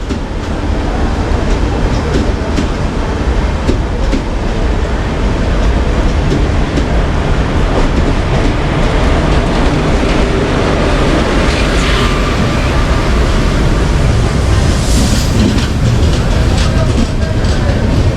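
A Konkan Railway express train rumbles steadily past close by in heavy rain, a loud continuous roar with rattling wheel clatter throughout and no talking.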